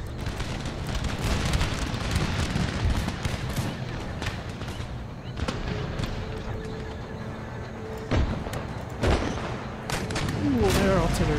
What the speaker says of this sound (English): their artillery's having a go.